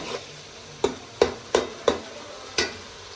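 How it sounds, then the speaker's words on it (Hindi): Masala for an aloo choliya (green chickpea) curry being sautéed over a slow flame, heard as about six sharp spoon-on-pan stirring knocks spaced unevenly over a soft background hiss, close and alone without talk. "अब हम इस मसाले को अच्छी तरह भूनेंगे, इसकी भुनाई करेंगे स्लो फ्लेम पे"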